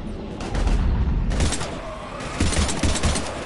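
Heavy gunfire in Mass Effect 3, dense bursts of rapid shots and loud impacts in quick repeated volleys, close and continuous across the whole stretch with no speech.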